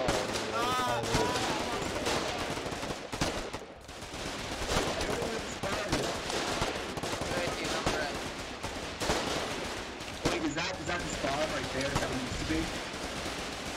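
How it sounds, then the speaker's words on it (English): Gunfire in the online war game Foxhole as troops push east through a town, with dense, rapid bursts of automatic fire and scattered shots rattling continuously and loudly, players' voices talking over the battle. "Oh, it's just a gun, man."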